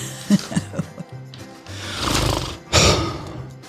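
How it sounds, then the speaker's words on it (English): Household vacuum cleaner running close by in a room during a podcast recording, a broad droning roar that swells and cuts in bursts, with brief knocks and rumbles before it. "she's vacuuming, but not vacuuming like down the hall"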